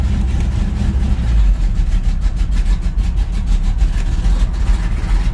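An engine fitted with Thompson Performance Powerblast plates idles in gear, giving a loud, steady low rumble with slight pulsing throughout and no voices.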